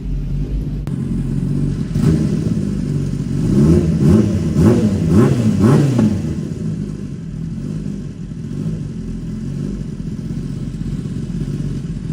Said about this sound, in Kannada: ಫುಲ್ಲು ರೆವ್ ಮಾಡ್ತಾವ ಗಾಡಿನ.